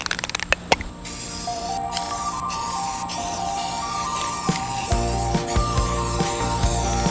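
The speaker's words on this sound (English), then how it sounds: "Does anyone else just immediately feel like a graffiti artist when you're spray painting?" Blue spray paint is sprayed onto picture frames, giving a steady pressurised hiss that runs through the clip, with a few sharp clicks near the start and louder bursts toward the end.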